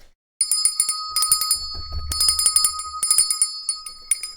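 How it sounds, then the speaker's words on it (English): A bright metallic bell rings in a rapid run of strikes, pauses, then rings again in several clustered bursts, loud and close, with a low thump partway through. "Ring that bell."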